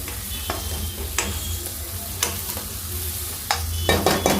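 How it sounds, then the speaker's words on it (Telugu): Tomatoes stirred into softened sautéed onions in a pan for an Andhra-style egg, potato and tomato curry: a steady close sizzle with several sharp, irregular spoon scrapes and taps against the pan, no voices. "ఉల్లిపాయలు అయితే బాగా మగ్గిపోయి, ఇప్పుడైతే మనం టమాటాలు వేసేసుకుందాం"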